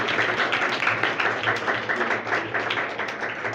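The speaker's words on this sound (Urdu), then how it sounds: "ہم سب اس بات کا شکریہ اپنے خدا کے حضور میں کرتے ہوئے زور سے تالیاں بجائیں، زور سے" Church congregation clapping loudly and steadily in thanks to God, a dense sustained wash of many hands close by with no talk over it.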